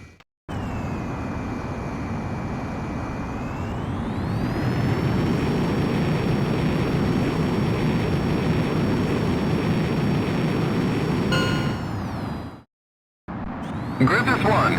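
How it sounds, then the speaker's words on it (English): A jet fighter, the XFA-33 Fenrir in Ace Combat X, takes off with a sustained roaring jet whine that rises in pitch and stays loud. The roar cuts out abruptly, then returns near the end. "Griffith 1, you are cleared for takeoff."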